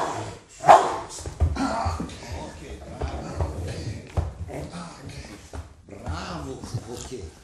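A Rottweiler barks a few times, with short, loud, close barks that rise above near-continuous talking.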